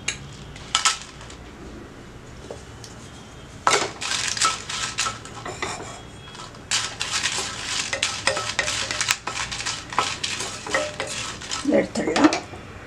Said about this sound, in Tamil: இப்ப மிளகாய் வறுத்துக்கலாம்